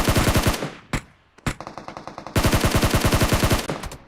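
A bot fires in a shooting video game, sending loud, close bursts of rapid automatic gunfire with short gaps between volleys and a long sustained stream at the end.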